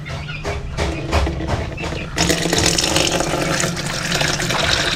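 Water is poured into a small amount of Premoxil medicine mix for young chicks, a short close splashing fill that starts about midway and continues steadily over a low background hum.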